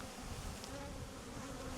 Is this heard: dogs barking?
no